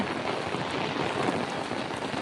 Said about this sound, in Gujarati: ફૂલ એવી વરસાદ પડી રહી છે